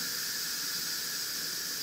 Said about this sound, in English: Now watch, the steam's gonna release.